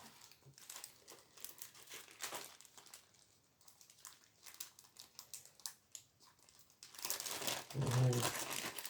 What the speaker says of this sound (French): je vais chercher un ciseau parce qu'il est fermé le sachet. Donc, je vais découper